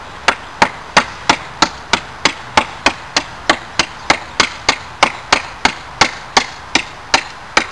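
A knife repeatedly strikes a wooden longbow stave being thinned down, giving about twenty-five sharp, evenly spaced chopping knocks at a steady rhythm, close and loud with no talking.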